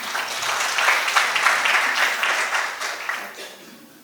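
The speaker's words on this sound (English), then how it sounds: "I'm very, very sure Violetta deserves a louder round of applause." Audience applause at a conference in Kampala, Uganda: a steady, dense crowd clapping sustained throughout, gradually fading toward the end, with no talk over it.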